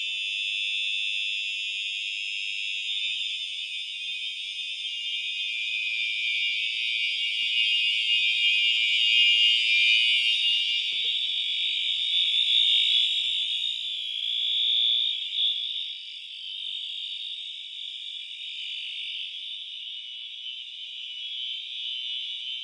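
A loud, continuous high-pitched fire alarm tone blares steadily for a long stretch during a fire alarm system test, with no speech.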